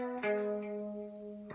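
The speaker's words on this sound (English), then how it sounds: "there's a harmony, a guitar catching the lower harmony" A guitar plays the lower harmony line of a song, one brief sustained picked note ringing clearly and alone.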